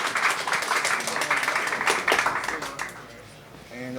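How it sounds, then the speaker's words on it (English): An audience at a live talk event claps, giving a burst of brisk, moderately loud applause for about three seconds that tapers off, with speech following. "Let's all clap."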